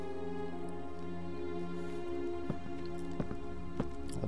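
Rain falls in the video game Heavy Rain, a steady hiss of patter with a few sharper drips landing near the end, over a low sustained tonal hum of game ambience.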